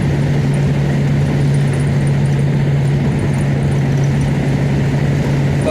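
Austin America car engine droning steadily at 65 mph while cruising uphill, a constant low buzz with wind and road noise throughout, close and fairly loud, no talk.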